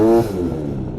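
A scooter engine holds at a raised rev for a moment, then drops and settles into a steady idle, heard close and loud.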